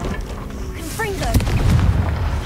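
The Confringo explosive spell in Hogwarts Legacy lands as a booming blast: a sharp crack followed by a rumbling low roar that trails off. A brief chirpy voice-like sound comes just before it.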